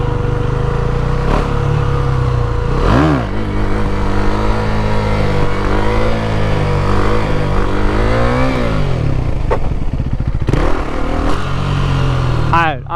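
KTM Duke 390 single-cylinder engine revving loudly up close while the rider attempts stoppies on dirt, with rising and falling throttle sweeps, wind buffeting, and a voice talking over the engine.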